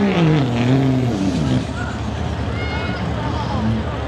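A Duramax diesel 4x4 street truck pulls a sled at a truck-pull event, its engine roaring loud and near with a rising then falling pitch, while a voice talks over it.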